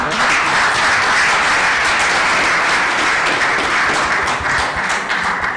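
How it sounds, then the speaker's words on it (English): Loud, dense applause from a crowd, sustained and even throughout with no talking over it. "applause for them"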